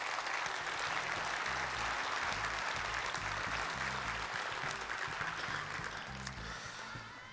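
Steady, sustained applause from a large audience honoring gold-circle-winning churches at a community keynote, dense and even throughout before tapering slightly at the end.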